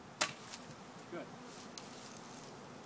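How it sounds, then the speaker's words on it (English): Bees buzz faintly in the background outdoors during a swarm removal, with a sharp tap near the start and a soft steady hum throughout. "Oh man, you got a lot of bees buzzing here"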